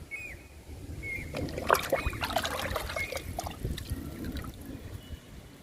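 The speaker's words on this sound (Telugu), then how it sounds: "ఈ పాలకూరకి ఈ లిక్విడ్ని ఇచ్చేద్దాము." Liquid fertilizer splashes and trickles onto young spinach plants in a garden, a soft, uneven pouring with irregular drips that builds in the middle and then fades, with no talk.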